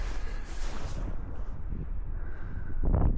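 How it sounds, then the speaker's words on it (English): Fierce, strong wind blowing through snow-laden trees during a walk in fresh powder snow, a steady broad roar with gusts, loud and close, with a louder rushing burst near the end. "But that wind is fierce."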